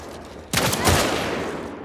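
A burst of gunfire erupts suddenly in The Last of Us Part II after a short quiet stretch: a loud, close volley of rapid shots ringing out with a reverberant tail.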